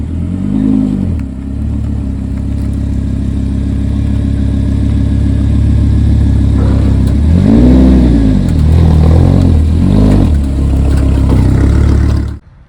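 Vehicle driving onto a Timpte 7K EZ Load trailer: a mid-pitched engine idles steadily and revs up in several short swells as it climbs aboard, close and fairly loud, with light clatter and no talk.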